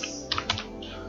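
A computer keyboard is tapped a few times in a quick cluster, with crisp, close clicks over a faint steady background hum.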